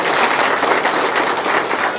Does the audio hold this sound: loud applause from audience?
yes